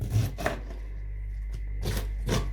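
A knife chops tomatoes sharply on a cutting board, two quick cuts, a pause, then two more, close and crisp in a quiet room.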